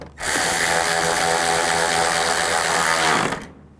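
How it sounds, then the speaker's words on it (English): Power tool driving bolts tight on the radiator cooling fan of a 2011-2014 Chrysler 200, one loud continuous whirring burst of about three seconds, close and alone, stopping abruptly. "Now I'll tighten these bolts down."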